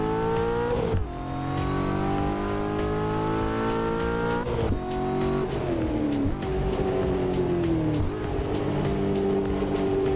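Race car engine in the Assetto Corsa racing game revving hard through gear changes, pitch climbing and dropping with each shift, joined by brief tire squeal, loud and continuous from start to finish.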